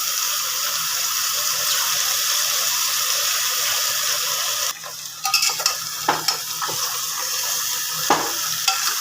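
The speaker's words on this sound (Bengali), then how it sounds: "মাংসটাকে একটু এই পেঁয়াজ আদা রসুনের সাথে ভাজা ভাজা করে নিতে হবে" Nine pieces of meat fry with onion, ginger and garlic in a steady, loud sizzle, then a spoon starts stirring, adding scattered scraping clacks over the hiss.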